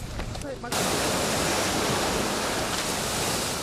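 Seawater thrown into the air by the underwater destruction of artillery shells off Şile comes crashing and hissing back down as a loud, sustained roar of falling spray that starts abruptly after a brief pause.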